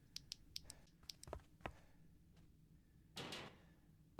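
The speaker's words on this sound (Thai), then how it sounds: "กดคลิกซ้ายเพื่อเป็นการเปิดประตู" A door opening in a Roblox game, set in a prison cell on the SCP 096 Requiem map: a run of sharp clicks and knocks, then a brief louder scraping swing, fairly close.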